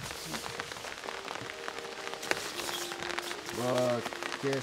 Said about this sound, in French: la pluie arrive fortement